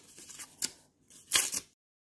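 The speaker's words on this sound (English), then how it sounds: "Now that I have my paper ripped in the colors that I chose" Paper being torn by hand into tiny leaf-sized pieces for a craft project, heard as two brief close bursts of crisp ripping separated by a short pause, with no talk.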